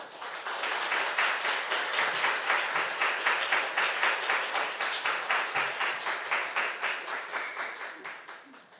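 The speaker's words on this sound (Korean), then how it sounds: "나오실 때 박수로 환영해 주시기 바랍니다" A church congregation claps to welcome a pastor to the pulpit at an installation thanksgiving service; the steady applause holds for several seconds with a rhythmic, pulsing quality, then thins out toward the end.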